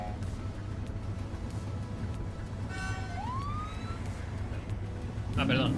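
A police car siren in The Precinct video game starts with a short rising wail, then a few warbling sweeps sound at moderate level over a steady engine drone, with a voice briefly heard at the end.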